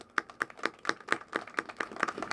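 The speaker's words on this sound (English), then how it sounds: "let's give him a round of applause" Steady, evenly spaced claps from an audience at a community event honoring NC Representative Reese Pirtle, a crisp rhythmic patter at moderate distance with no talking over it.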